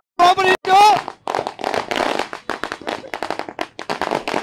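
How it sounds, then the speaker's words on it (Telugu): Firecrackers burst in a quick, ragged series at a street celebration for the Kalki movie, sharp pops mixed with loud shouting and cheering from the crowd. "ఇక్కడ టపాసులు పేరుస్తూ వాళ్ళకి ఎంజాయ్ చేసిన పరిస్థితి కనిపిస్తుంది"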